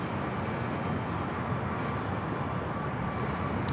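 An Alaska Airlines A321 jet takes off from runway 27 at San Diego airport, a steady, dense engine roar holding at an even level throughout with no voices.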